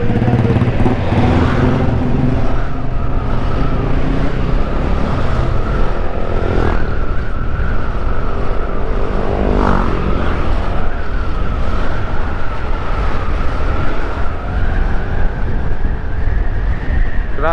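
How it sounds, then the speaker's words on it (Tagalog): Busy road traffic of cars and motorcycles in Lucban, Quezon, heard from a scooter ride, with steady engine drone, passing vehicles and occasional louder motorbikes close by, continuous throughout. "Nag-build up na rin yung traffic dito."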